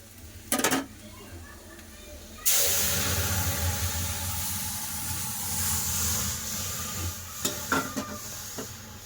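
Boiled masoor dal tipped into a pan of fried onions, a couple of utensil knocks first, then a sudden loud burst of sizzling and hissing that carries on steadily with stirring scrapes.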